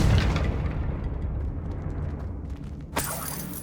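A Confringo spell explosion in Hogwarts Legacy bursts loudly at the start, then rumbles and decays, with a second sharp crack near the end.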